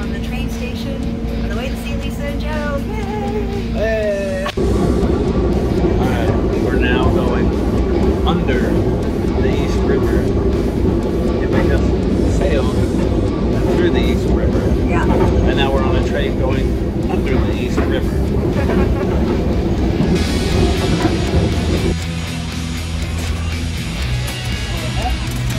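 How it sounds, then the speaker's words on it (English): Interior of a commuter train running from Port Washington to Penn Station in New York City, a steady loud rumble and rattle throughout with people talking over it, the tone shifting near the end. "We caught the train in Port Washington, destination Penn Station, New York City."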